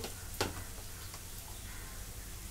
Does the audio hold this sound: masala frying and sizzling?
yes